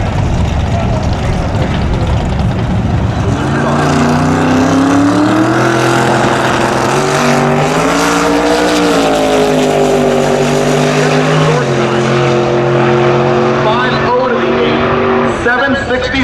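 A twin-turbo big-block Tri Five Chevy makes a drag racing pass, its loud engine roar climbing and sweeping in pitch as it accelerates, then fading, with an announcer talking over it throughout.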